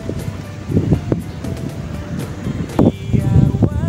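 Loud wind buffeting the microphone over a continuous rumble of surf at Citarate Beach in Lebak, Banten, Indonesia, with waves swelling and washing in repeatedly, close by.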